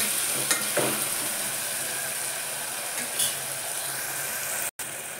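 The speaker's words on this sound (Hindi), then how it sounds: "और अब इसको अच्छे से चला के टमाटर को थोड़ा और सॉफ्ट करेंगे।" Tomatoes frying in a pan with salt are stirred, giving faint scraping and clicking of the spoon over a steady low sizzle, close by with no talk.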